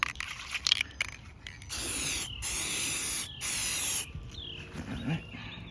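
An aerosol spray paint can hisses in one long, steady burst of a couple of seconds as it coats the edge of a mirror to repair black edges, then a shorter burst follows, with quiet handling noises around them.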